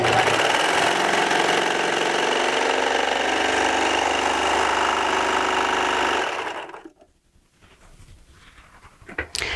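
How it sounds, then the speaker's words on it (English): A Baby Lock Victory serger sews through two layers of 10-ounce denim with a steady, fast mechanical whirring that runs for about six seconds and then stops. Quiet clicks from the machine follow. "I'm going to run 2 layers of 10-ounce denim through."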